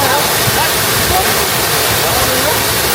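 Waterfall crashing down in the middle of a forest in Japan, a steady, loud, broadband roar of falling water that stays constant throughout with no pauses.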